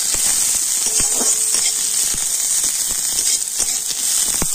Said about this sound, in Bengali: এখন আমি পেঁয়াজটা একটু লাল লাল করে ভেজে নেব